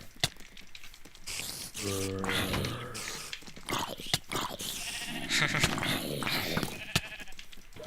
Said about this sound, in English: I shot the sheep. Sheep.